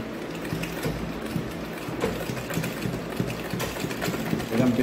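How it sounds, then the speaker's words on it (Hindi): A tailor's sewing machine stitches the waistband of a six-panel petticoat with a close, steady rhythmic clatter of the needle mechanism that runs throughout, and a voice speaks over it. "बराबर करके यहाँ सिलते हैं।"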